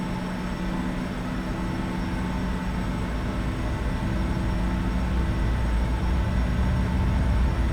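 A CRJ jet rolls down the runway after brake release on a flight to Denver, heard from inside as a steady, building engine roar and rumble that grows gradually louder.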